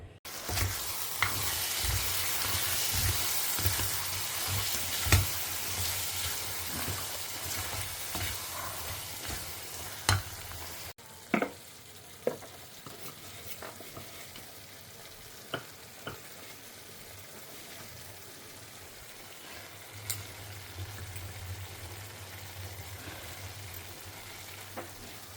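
Kashmiri chilli powder sautés in a pan with a continuous sizzle, louder at first and then quieter, with scattered clicks from a spoon or spatula against the pan and no voices.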